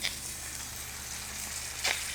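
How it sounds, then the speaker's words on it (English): Duck breast frying skin side down in a hot pan: soft, steady sizzling, a constant crackling hiss with a brief louder spatter near the end. "I'm gonna put it skin side down in the pan. It's gonna sizzle for about 5 minutes"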